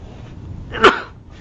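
A single sharp sneeze bursts out near the microphone against a quiet room, brief and loud.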